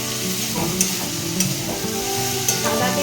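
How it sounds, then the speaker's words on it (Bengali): Potatoes frying in white oil in a pan, stirred now and then, give a steady close sizzle with a few louder scraping stirs, and no one speaks. "আলুটা নাড়ছি আলু ভাজা বসিয়েছি সাদা তেল দিয়ে"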